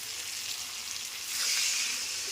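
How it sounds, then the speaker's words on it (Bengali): Crab curry sizzling and hissing in a pan just as water is poured in, a bright, steady frying hiss that swells briefly midway, close but fairly quiet, with no talking. "একটু জল দিয়ে দিলাম বন্ধুরা।"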